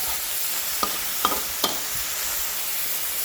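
Garlic and pork sizzle steadily in a hot pan while a utensil scrapes and taps against it three times in quick succession.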